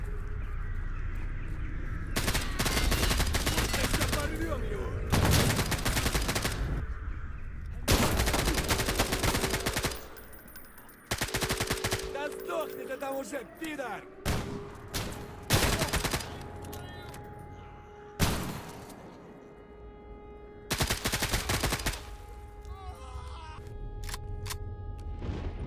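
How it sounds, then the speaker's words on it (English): Gunfire from bandit fights in S.T.A.L.K.E.R. GAMMA, rendered as repeated loud bursts of shots separated by short pauses, with rumbling game ambience and scattered crow-like caws between the volleys. "shooting bandits is pretty painless, and they go down to my steel-barreled sword of vengeance without much of a fight"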